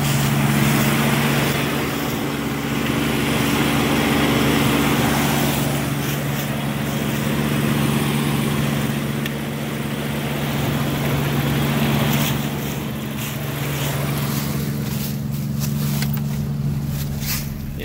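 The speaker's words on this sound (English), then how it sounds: "this is what mine sounds like with a misfire" A Jeep Cherokee XJ engine idles with a misfire, a close, rough, uneven rumble with a low hum that carries on throughout.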